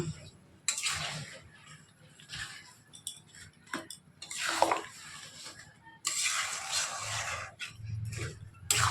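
Mango and melted jaggery being stirred in a pan, with bursts of wet scraping and clinking against the metal, coming in uneven strokes with pauses between; close and fairly loud.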